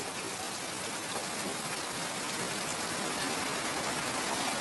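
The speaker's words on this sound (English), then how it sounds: "The rain." Steady, dense rain falls throughout, a continuous hiss of drops on surfaces with no voices.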